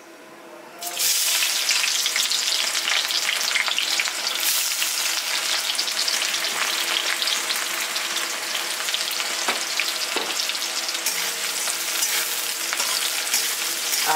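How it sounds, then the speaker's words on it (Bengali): Chopped onion hits hot oil already tempered with cloves, cardamom and cinnamon for a moong dal tarka, bursting into a loud hiss that settles into a dense, continuous close-up sizzle with occasional faint knocks. "দিয়ে দেবো পেঁয়াজ কুচি"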